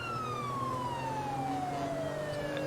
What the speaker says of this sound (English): but the rest of the siren sounds pretty good.